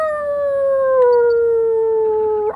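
A Pokémon in a video game lets out a single long, clear howl that holds steady and slowly sinks in pitch before cutting off abruptly.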